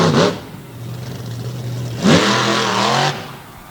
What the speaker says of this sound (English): We'll see what he has here as the big black and green Ford works his way around,